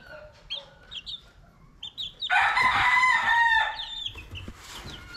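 Chickens and late-hatched chicks in a small enclosure give scattered clucks, then a loud rooster crow rings out in the middle, followed by more clucking and chick peeps nearby.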